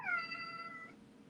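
A domestic cat gives a single clear, drawn-out meow, fairly close and alone, trailing off after about a second.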